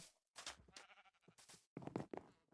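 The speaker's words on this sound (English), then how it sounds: "Oh no, there's a sheep wandering." Several short sheep bleats from the video game Minecraft come in quick bursts with brief pauses between them, close and fairly clear.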